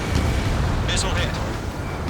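A missile hitting its target in the Ace Combat 7 flight game, a dull rumbling blast under a steady roar of jet engine and game noise, with a brief crackle of debris.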